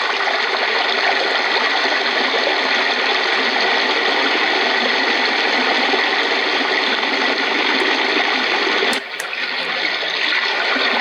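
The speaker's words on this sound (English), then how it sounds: "Now a nice babbling stream." A continuous rushing, babbling stream sound from a white noise sleep machine plays steadily, briefly dipping near the end before resuming; no one speaks.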